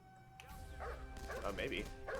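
Dogs bark and yip in bursts in a video game raid on an airbase, mixed with game noise and a voice talking over them.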